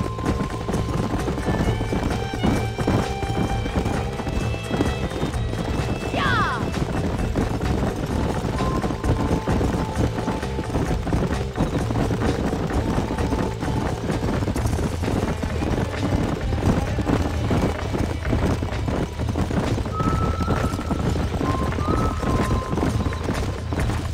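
Horses in Red Dead Redemption trot with steady clip-clop hooves beneath a constant loud ambient bed, and a brief whinny rises midway. Short neighs recur faintly toward the end.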